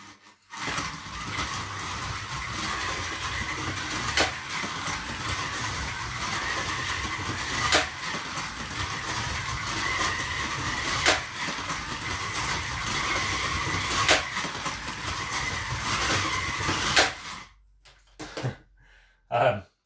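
Scalextric slot cars race around a plastic track with a continuous whirring, skidding buzz that stays loud and close for about seventeen seconds before cutting off into a few scattered clicks.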